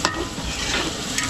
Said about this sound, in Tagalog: tostahin lang natin ng konti yung bawang, saka yung sibuyas